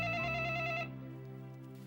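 A telephone rings with bright, steady electronic tones that stop abruptly partway through, leaving a faint low hum behind.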